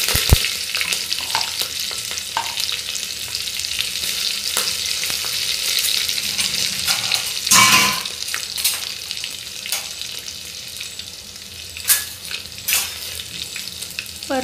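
Green chilli and curry leaves sautéed in a pan for prawn rice, a loud, close, continuous sizzle with scraping stirs and a few sharper crackles and knocks.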